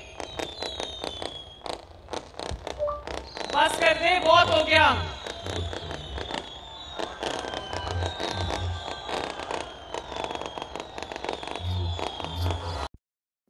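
Firecrackers burst in rapid, crackling volleys at a crowded Hafizabad political rally for Maryam Nawaz, loudest in a dense cluster near the middle, with scattered pops, crowd noise and voices talking throughout.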